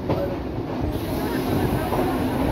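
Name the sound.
Shahid Express train arriving at Bolpur Shantiniketan station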